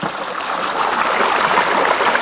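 Snowmelt water pouring out of a culvert laid under heavy stones on a hillside: a steady, loud, close rushing and gurgling flow with no break.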